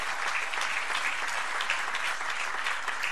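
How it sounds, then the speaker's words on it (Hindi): An audience at a Prayagraj event for Uttar Pradesh's chief minister claps steadily, a dense, even wash of applause that fills the whole stretch with no pauses. "जोर से तालियां बजाइएगा हमारे honourable chief minister Shri Yogi ji के लिए।"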